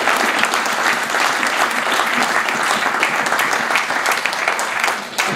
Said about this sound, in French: pouvoir l'applaudir